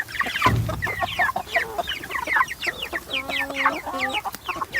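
Young chicks peep and cluck close by in a busy, overlapping chorus, with bright chirps and some longer calls layered together over the whole stretch.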